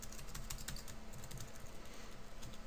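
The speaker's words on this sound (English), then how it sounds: "All we have to do is type image" Rapid, steady keystrokes on a computer keyboard while Java code is entered, close and continuous with soft clicking throughout and no speech.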